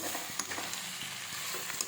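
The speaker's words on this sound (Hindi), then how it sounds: "इसमें मैंने लहसुन, मिर्ची और जीरे का तड़का लगाया है और इसे मैंने भूनने के लिए रख दिया है।" Ivy gourd frying in a pan with a garlic, chili and cumin tempering, giving a steady close sizzle with faint stirring scrapes and no voices.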